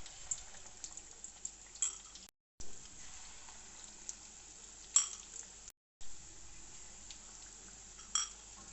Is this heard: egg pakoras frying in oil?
yes